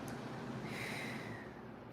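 One soft, slow exhale through the nose during a calming breathing exercise, quiet and close, lasting about a second and a half with no talking.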